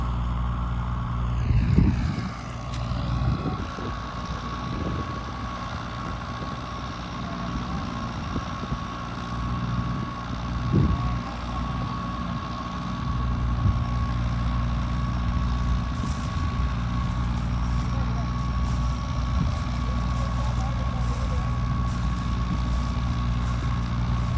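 A New Holland 5500 tractor pulls a super seeder through a field, its engine droning steadily and fairly close throughout, with a persistent hum and some brief clanks near the start.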